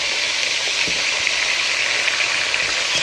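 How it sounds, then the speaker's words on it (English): Seasoned turkey chops and potatoes sizzle and fry steadily in a hot pan of non-olive oil, a continuous close crackling hiss with faint stirring clicks and no speech. "You want them to start frying a little bit."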